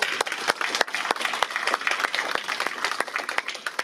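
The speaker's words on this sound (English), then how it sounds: "So we get a round of applause for Fred." A meeting audience at a 2025 NBAHS annual meeting applauds Fred Behrens, the outgoing president, with a modest room of distinct hand claps, fairly close and steady for several seconds.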